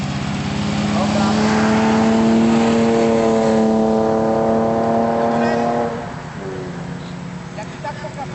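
A learner's car engine revs steadily and loudly during a first driving lesson, a sustained rising drone that drops to a lower, quieter hum near the end, with an instructor talking over it.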